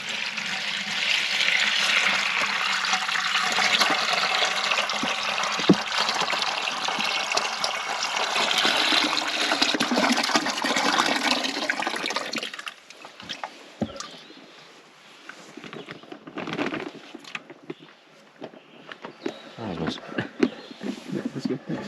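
Water gushing and splashing steadily into a bucket for an off-grid outdoor shower setup, a loud continuous pour for about twelve seconds that then tapers into lighter trickles and drips.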